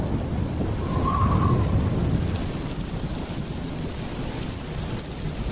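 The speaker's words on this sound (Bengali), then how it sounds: "বাইরে ঝমঝম করে বৃষ্টি পড়ছে।" Heavy rain pours outside in a steady dense roar, with a low rumble of thunder beneath it and no voices.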